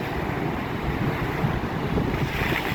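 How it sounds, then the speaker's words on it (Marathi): Ocean surf at Hedvi beach on the Konkan coast rolls in as a continuous roaring wash mixed with wind buffeting the microphone, fairly loud and without voices. "हे बघा तिकडं पण कसल्या लाटा मारत आहेत"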